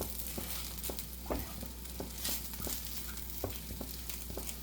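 Okra and onion stir-fry in a pan over a medium flame, giving a steady close sizzle with soft scraping taps of stirring scattered throughout, and no voices.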